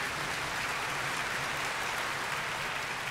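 Steady crowd-like clapping from The Wind Waker video game, continuous and even across the whole stretch, with no voices over it.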